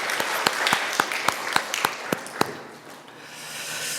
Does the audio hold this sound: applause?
yes